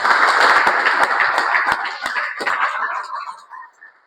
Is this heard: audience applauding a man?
yes